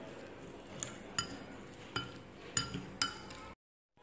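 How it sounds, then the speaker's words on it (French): Ingredients for an Ivorian fish marinade with half a lemon are stirred in a bowl, several sharp clinks of a utensil against the bowl over a soft scraping background, fairly quiet and close, ending abruptly. "On va bien mélanger."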